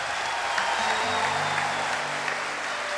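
Dense, steady applause from a church congregation at a Catholic worship event, continuous and fairly loud, with a faint low hum of sound underneath.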